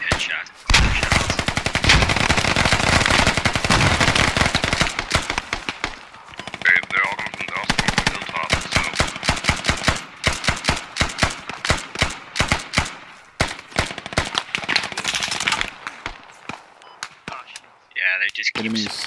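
Rapid automatic rifle fire and single shots from the military shooter game Squad, loud and close, in long bursts with brief gaps, mixed with more distant gunfire and someone talking over it.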